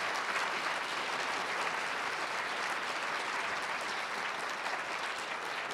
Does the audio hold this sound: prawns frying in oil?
no